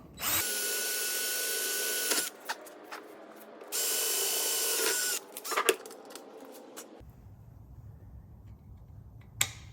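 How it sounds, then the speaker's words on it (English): A quarter-inch air Dremel grinds a hole for a nut rivet in a saw port, with two loud sustained whining bursts, short clicks between, then a quiet stretch. "I clean this up with the Dremel also. So I just use a 1/4 inch air Dremel"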